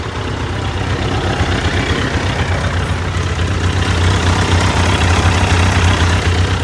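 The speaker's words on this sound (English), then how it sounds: "that's a normal tick over" A Triumph Daytona T300 motorcycle engine idles steadily at close range, with a low, even rumble and rapid ticking pulse that never changes pace.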